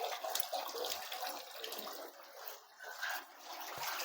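Water pours and splashes steadily while a bedridden person is bathed at home under a cover, a continuous close wash of running water with no talking.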